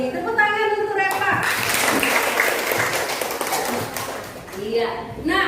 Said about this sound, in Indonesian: Tepuk tangan untuk Reva